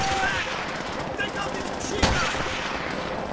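Continuous machine gun fire in the World War II shooter Call of Duty: World at War, a dense roar of rapid shots with one sharper crack near the middle, loud and steady throughout.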